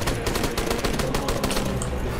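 L85 rifle fire in Army Men of War: a continuous burst of rapid automatic shots, loud and close, sustained through the whole stretch.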